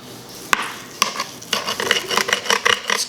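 A knife slices through a smoked, honey buffalo-injected pork loin cooked on a Weber Performer Deluxe, giving sharp clicks of the blade on a board followed by a run of close, crackly crust-cutting scrapes and taps.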